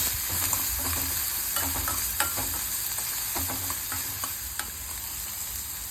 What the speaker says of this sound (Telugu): బాగా ఫ్రై అయ్యేంత వరకు ఫ్రై చేసుకోవాలి